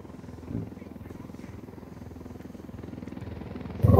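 Helicopter in a video game, a low rhythmic rotor chop pulsing steadily and growing louder toward the end as it closes in, with a brief bump early on.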